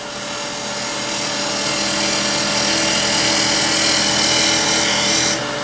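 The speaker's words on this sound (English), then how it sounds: "We're going to get the tool bevel cutting, rubbing, and then we'll start making a little shaving." A woodturning lathe tool cutting a wooden spindle blank for a lidded ring box, a loud steady whirring hiss of the spinning wood and rubbing bevel, continuous and close, stopping at the very end.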